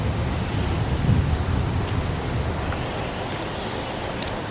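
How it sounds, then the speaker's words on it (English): Steady, dense rain pours down in the video game Heavy Rain, a constant broadband wash with a soft low rumble, loud and close throughout with no voices. "It's pouring rain."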